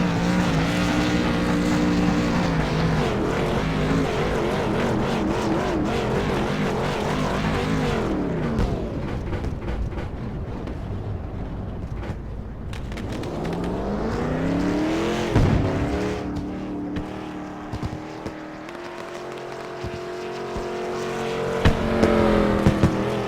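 A race car in a racing video game does a burnout at the flag stand, with a loud, sustained engine roar that revs up and down and tire squeal throughout, close and continuous.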